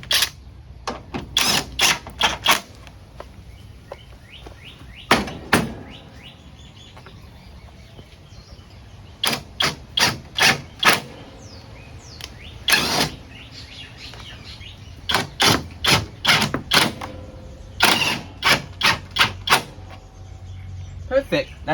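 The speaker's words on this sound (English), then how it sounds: "Now I gotta take the impact and just tighten and, you know, torque those bolts down." Impact wrench tightening bolts on a racing mower, repeated sharp bursts of rapid hammering in quick clusters with short pauses between, close and loud.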